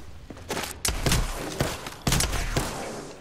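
Rapid bursts of gunfire crack through a firefight in Apex Legends, several sharp shots in quick clusters over a rumbling battle background, close and loud.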